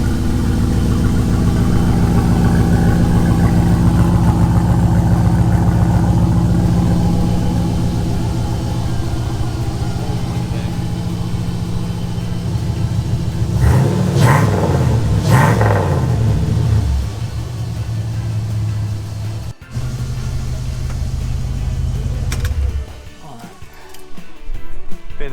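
An off-road wheeler's engine idles steadily as it warms up, a close, low rumble that runs throughout with a brief rev partway and cuts off near the end.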